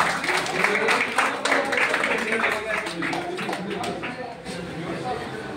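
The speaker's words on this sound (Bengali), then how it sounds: "এখন জোড়া হাততালি সবাইয়ের জন্য।" Audience at a wildlife photography event in Bengal breaking into applause, a dense patter of clapping that gradually thins out, with a voice speaking over it.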